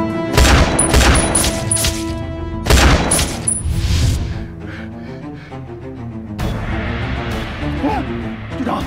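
Loud, close gunfire fills a scene from a Chinese anti-Japanese war film, with rapid bursts of shots that fade into a quieter, lingering battle background. A voice can be heard speaking partway through.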